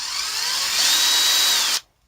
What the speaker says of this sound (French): elle est vraiment géniale la petite perceuse